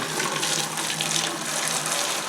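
Brewed Bavarian hefeweizen wort, full of hops, is poured through a screen strainer into a bucket, making a steady close splashing gush of liquid that runs without a break for a couple of seconds.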